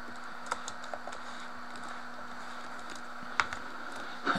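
Typing on a computer keyboard, with sparse irregular key clicks and a few louder taps spread over several seconds against a steady low hum.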